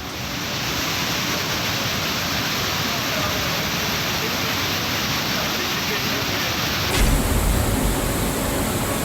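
A fast torrent of floodwater pours off a hillside into the Kedareshwar temple complex in Ratlam during monsoon rains. It makes a loud, continuous, even roar that shifts slightly in tone near the end.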